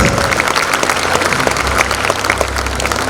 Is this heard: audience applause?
yes